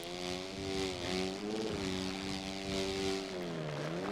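A 250F motocross bike engine in the video game MX vs ATV All Out holds a steady buzzing drone, its pitch dipping and rising slightly with the throttle, continuous and prominent with no voice.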